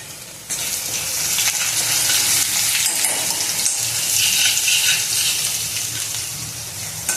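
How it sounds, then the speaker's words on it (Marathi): Crushed garlic and dried red chilli hit hot oil with cumin for a tempering, crackling and sizzling loudly and continuously close by with some stirring. "लसूण घालायचा, ठेचलेला लसूण घालायचा आणि ही सुकी मिरची तडक्यासाठी टाकायची"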